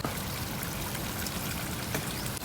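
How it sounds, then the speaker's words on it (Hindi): Cold spring water flowing steadily beside a mountain hiking trail in a Skardu valley, a continuous close trickling and gurgling stream with no pauses. "चश्मे का पानी है"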